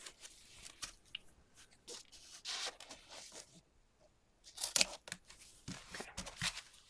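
Scissors snip through excess material on a quilt block design board, a few close, crisp cuts and crunchy rustles in quick bursts, with quieter pauses between.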